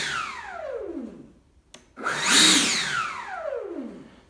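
An electric RC plane motor whines as it spins down, pauses, then surges back up into reverse thrust with a loud rising and falling whir.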